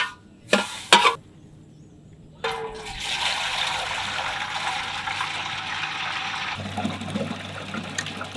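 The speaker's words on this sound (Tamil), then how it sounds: "தண்ணி எடுத்து ஊற்றுவோம்மா." Water is poured into a cooking pot in a village kitchen where a whole goat head is being prepared: a couple of sharp knocks, then a steady rushing pour lasting several seconds before it drops to a lower, quieter trickle.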